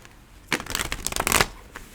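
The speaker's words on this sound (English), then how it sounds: "so we'll shuffle a little bit more" Tarot cards being shuffled, a close rapid riffle of flapping card edges lasting about a second, then a brief soft tap.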